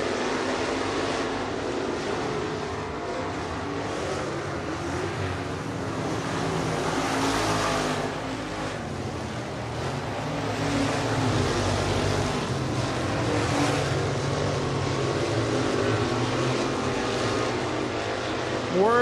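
IMCA stock cars race side by side down the front straightaway of a dirt oval, a dense sustained engine roar with broad noise that swells and fades as the pack passes, while a commentator talks over it.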